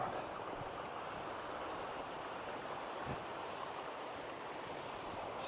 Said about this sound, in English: Sounded like a small stream, but it's definitely a waterfall.